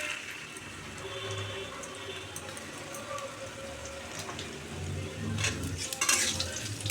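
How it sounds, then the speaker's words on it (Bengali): Potatoes stirred through hot oil and spices make scraping, shuffling stirring sounds over a low sizzle, getting busier and louder toward the end. "আলুগুলো একটু ভালো করে নেড়ে চেড়ে নেব তেলের মধ্যে।"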